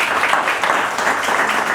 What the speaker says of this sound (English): Let's give that a massive round of applause